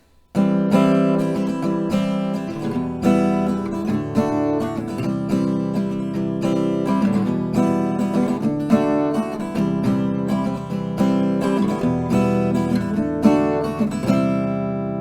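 Acoustic guitar strummed through the chord progression of a song, full and close, repeating in even rounds with no voices.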